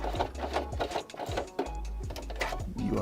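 A sewing machine stitches puppet fabric in fast, steady bursts, its motor whirring and needle ticking loudly and close, pausing briefly before racing on again.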